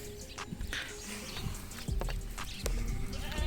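Curly, woolly sheep bleat on a farm with camels, a few short calls rising near the end over rustling and scuffling movement, with no talk.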